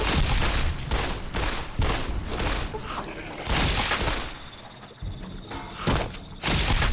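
Rapid bursts of gunfire from a DLC weapon in the Fallout: New Vegas video game, loud and close, firing in repeated volleys separated by brief gaps over several seconds.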